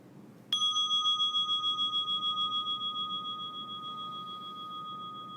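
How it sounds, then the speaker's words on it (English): A meditation chime is struck once at a meeting, ringing out with a clear bright tone that sustains and slowly fades over several seconds with a gentle pulsing shimmer, alone in a quiet room. "And then we would ring the chime."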